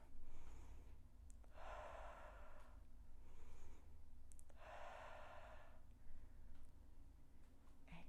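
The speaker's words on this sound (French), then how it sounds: "Inspire et expire." Slow, deliberate breathing during a mixed toning exercise session, with two long audible breaths in and out close to the microphone, soft and unhurried, with no talking.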